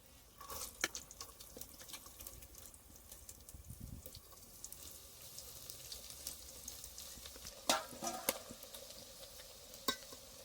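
Onion and tomato fry in oil with cumin in a pan for a kantola (spiny gourd) curry, giving a soft steady sizzle with intermittent scraping and stirring clatters close by.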